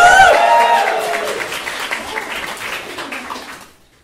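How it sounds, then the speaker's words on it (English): A comedy show audience claps and cheers, the applause starting loud under a speaking voice and then thinning out and fading away toward the end. "Give them a big round of applause to begin"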